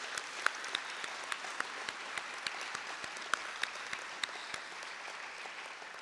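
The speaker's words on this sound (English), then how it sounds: "perhaps a quick clap for them too" Light, scattered clapping from a conference and awards audience gathered in a church, with distinct individual claps popping out over a soft, continuous patter that sounds fairly distant and quiet.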